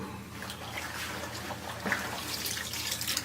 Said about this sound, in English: you end up washing everything out of the sink